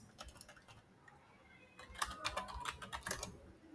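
Fingers type a new folder name on a computer keyboard, producing quiet, rapid key clicks that grow denser and louder in the second half.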